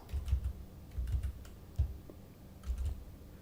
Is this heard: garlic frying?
no